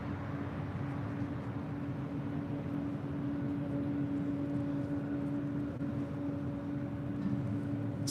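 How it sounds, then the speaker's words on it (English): A Boeing 777-300ER airliner bound for Hong Kong at LAX: a steady, distant engine drone with a constant low hum, unchanging across the whole stretch. "This flight heading back to Hong Kong, the 777-300ER."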